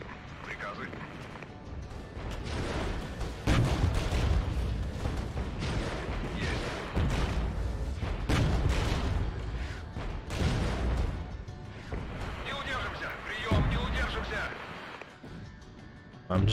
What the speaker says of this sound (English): I might pop down an artillery barrage on that area, use our free tactical aid.